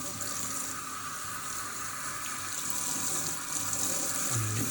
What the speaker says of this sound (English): let all the water go through the middle, through the lace side